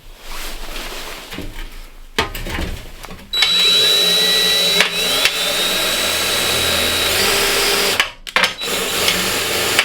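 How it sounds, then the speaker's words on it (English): A power drill boring a hole while camping alone in a forest: after a few short bursts the motor runs steadily and fairly loud for about five seconds, then stops with some handling noise. "First thing I'm going to do is drill a hole."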